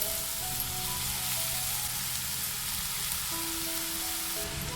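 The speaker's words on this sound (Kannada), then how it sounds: "ಇವಾಗ ನಾವು ಸಣ್ಣದಾಗಿ ಕಟ್ ಮಾಡ್ಕೊಂಡಿರೋಂಥ ಮೆಂತ್ಯ ಸೊಪ್ಪನ್ನು ಹಾಕ್ಕೊಳ್ಳೋಣ." Chopped fenugreek leaves fry in a little oil in a pan, giving a steady, even sizzle that stays close and moderately quiet throughout, with no voices over it.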